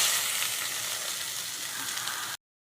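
Onions fry in oil in a kadai with kasuri methi and mint leaves, giving a steady, even sizzle that cuts off abruptly.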